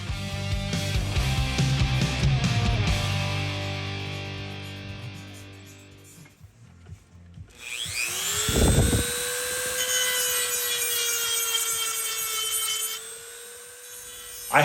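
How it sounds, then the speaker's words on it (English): A Dremel rotary tool with a cutoff wheel cuts rivets from pinball machine ramp hardware, giving a close, high-pitched grinding whine that shifts in pitch as the wheel bites the metal, with a pause partway through before the cutting resumes. "I had to bust out the trusty Dremel and cutoff wheel to remove the 3 rivets"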